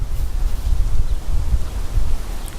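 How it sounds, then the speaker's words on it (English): Gusty wind buffets the microphone in low, rumbling bursts, rising and falling over a couple of seconds. "It's getting a bit windy again here."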